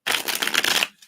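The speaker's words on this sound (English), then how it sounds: "Give these a shuffle." A deck of reading cards is shuffled once, a dense papery riffle lasting under a second, close and clear, then it stops.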